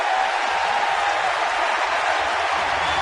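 A crowd at a Giants baseball game roars and applauds in a stadium, a dense, sustained wash of cheering with no break.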